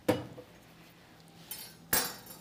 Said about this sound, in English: We are just cutting off the heads and tails